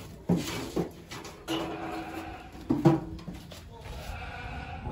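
A horse whinnies in short, repeated bursts at a Sojat goat farm, fairly close and moderately loud, with people talking in the background between calls.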